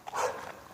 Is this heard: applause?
no